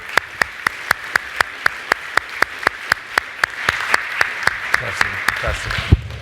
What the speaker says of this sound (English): Round of applause for Greg, you guys.